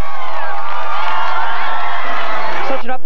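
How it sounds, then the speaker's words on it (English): Loud crowd of fans cheering and whooping as the Columbus Cottonmouths hockey team returns, a dense sustained roar that drops off abruptly near the end. "crowds cheering"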